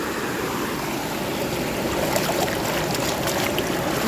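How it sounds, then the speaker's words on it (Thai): Strong water rushes and gurgles steadily near a fish-catching spot, a continuous loud flowing wash with no talk over it. "น้ำไหลแรงมากเลย"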